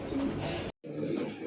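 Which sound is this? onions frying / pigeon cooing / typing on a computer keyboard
pigeon cooing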